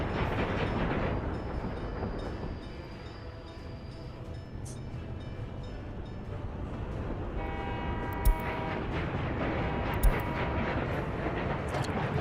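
Train rolling along rails in a realistic Arabian desert biome of a railway-building video game, a steady continuous rumble with faint tonal hum and two brief sharp clanks near the end.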